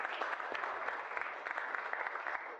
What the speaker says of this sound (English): Let's give Alex a great round of applause